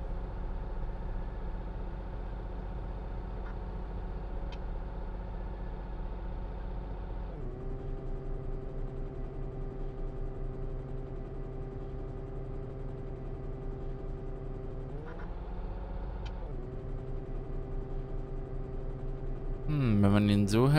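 A city bus in the OMSI 2 bus simulator game idles with a steady, loud low drone throughout, briefly shifting in pitch twice as the brakes are pressed harder, and a rising rev comes near the end.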